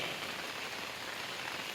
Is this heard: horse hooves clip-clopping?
no